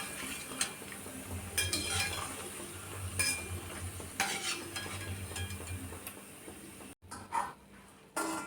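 Poha chakli frying in hot oil, a steady close sizzle with stirring and occasional metal clinks against the pan, briefly cutting out near the end.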